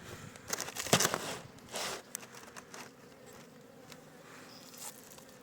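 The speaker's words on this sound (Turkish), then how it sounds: "Yani bunların içinde arı var." Honey bees buzzing inside an opened hive on a cool 14-degree day during stimulative feeding, a steady close drone with a louder flurry of buzzing and handling crackles early on before it settles into a softer hum.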